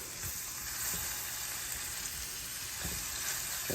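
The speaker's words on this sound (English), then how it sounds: "Head on over to our butter, which is going pretty good at this point. Let it start sizzling." Butter sizzling in a frying pan before catfish goes in, a steady close crackle and hiss with a few soft clinks and scrapes, no voices.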